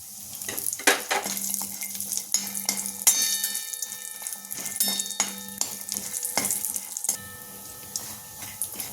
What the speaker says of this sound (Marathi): अक्रोड रोस्ट व्हायला 1-2 मिनिट तरी लागतात